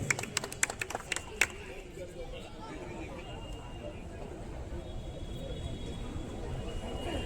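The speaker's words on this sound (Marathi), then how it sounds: "टाळ्यांचा आवाज" A crowd at a bodybuilding competition claps in a short burst of sharp, scattered hand claps for a prize announcement, then settles into a murmuring, echoing hall ambience.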